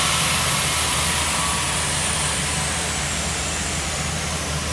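A car engine runs on a dyno at part throttle, around 40 to 50 percent, giving a steady, loud, dense roar with a constant low rumble and no rise or fall across the run.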